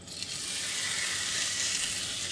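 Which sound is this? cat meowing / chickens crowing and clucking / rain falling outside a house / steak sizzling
steak sizzling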